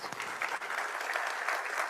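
Audience at a judges' annual conference inauguration in Gujarat claps as a certificate is presented on stage, an even, continuous wash of applause from a large room.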